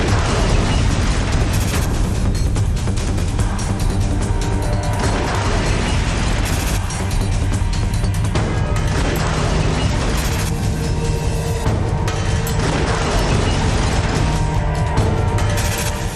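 CCTV footage of a car bomb blast near Delhi's Red Fort: dense, continuous loud roaring noise with bursts and crashing throughout, a harsh distorted wash with no clear single boom standing apart.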